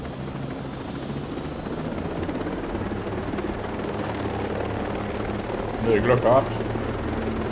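A helicopter flies in the video game Ghost Recon Breakpoint, its rotor drone a steady, close, continuous hum throughout, with someone talking briefly over it near the end.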